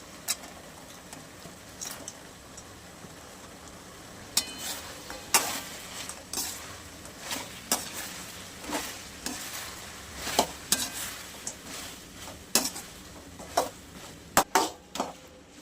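Soya manchurian stir-fried in a pan with Schezwan chutney, with repeated scraping and tossing clatters over a low sizzle, close and moderately loud, spaced irregularly across the clip.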